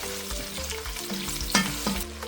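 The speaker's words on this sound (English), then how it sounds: "So into the pan, I put in my onion, allowed it to cook for about 7 minutes." Onion frying in oil in a pan for Ghanaian jollof rice, a steady crackling sizzle with scattered pops and occasional utensil scrapes, close and continuous with no voices.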